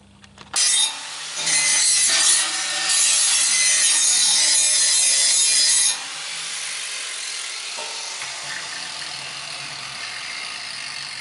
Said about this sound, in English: what I'm going to do is grind back all the little tack welds that I made.